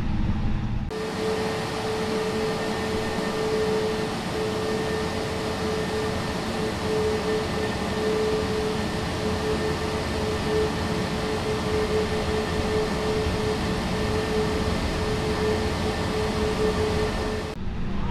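Jet engines of a Drukair Airbus A320neo roar steadily through the cabin during takeoff, a loud continuous rumble with a sustained whine running unbroken for most of the stretch.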